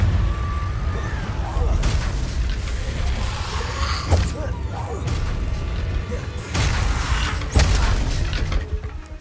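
Confringo fire spells explode in Hogwarts Legacy, a rapid run of loud booming blasts and crashes in close succession over continuous game noise.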